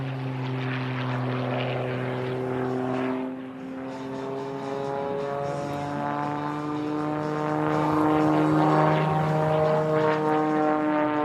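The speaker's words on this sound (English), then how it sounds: "Working her way down is Melissa in her Edge 540 in the Prometheus, highly modified hot rod biplane, Skip Stewart." Edge 540 aerobatic propeller plane performing at an air show, a loud droning engine with a shifting pitch as it passes, steady and sustained throughout.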